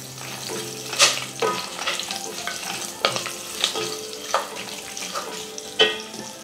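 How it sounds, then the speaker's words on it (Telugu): Green chilies sizzling and being stirred in hot oil with cumin seeds for jeera rice, a steady close frying hiss broken by several sharp spatula scrapes and clicks, with no talking. "ఇప్పుడు 2-3 పచ్చిమిర్చి ముక్కలు చేసుకొని వేసుకోవాలి."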